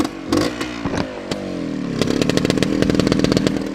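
A 1970 Suzuki TS250-II two-stroke motorcycle engine runs close and loud, crackling and popping through a few blips before settling into a steady, buzzy high idle with no talk.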